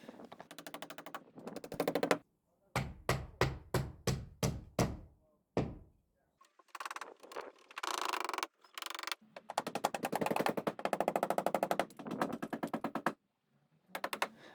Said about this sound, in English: and then just hammer away